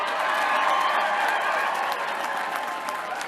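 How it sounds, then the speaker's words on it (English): Dense applause and cheering fill a room at a Colorado 2018 election night campaign gathering, a steady loud wash of many hands clapping that eases slightly toward the end, with faint voices mixed in. "Give yourselves a round of applause."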